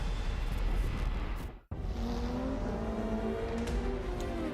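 Race cars roar in a Project Cars video game trailer, with engines revving loud and continuous. A brief cut to silence interrupts them before the sustained engine whine and rising pitch return.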